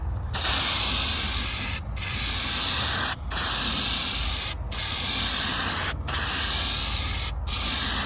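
An aerosol spray can paints an old tool box in short bursts, a loud steady hiss broken by brief pauses roughly every second and a half, close up with no talking.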